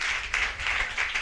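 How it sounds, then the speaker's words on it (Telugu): An audience claps in steady bursts of applause during a church anniversary sermon, a dense wash of hand claps that swells and dips several times with no voice over it. "నమ్మితే చప్పట్లు కొట్టి వందనాలు చెప్పండి."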